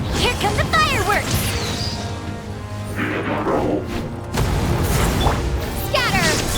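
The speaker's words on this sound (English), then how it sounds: "Here come the fireworks!" Fireworks blasts in Genshin Impact's Natlan region crash and boom in quick bursts amid whooshes, layered under energetic character voices and battle noise.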